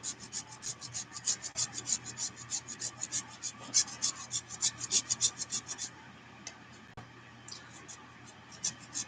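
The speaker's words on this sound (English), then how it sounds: "So I have a cheese grater that I'm going to actually use to just kind of shred it on the inside of it." A crayon shredded on a cheese grater makes a quiet, close series of regular scratchy strokes for several seconds, then fades to a low background hum.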